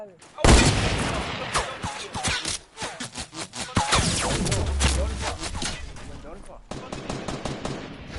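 Rapid bursts of automatic gunfire and single shots in Fortnite gameplay, loud and dense across the whole stretch, with a player's voice talking over the shooting.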